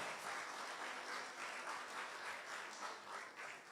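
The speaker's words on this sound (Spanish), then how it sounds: "Démosle un fuerte aplauso al Señor" A congregation claps in sustained, even applause at a church service, a dense wash of many hands heard clearly with no talking over it.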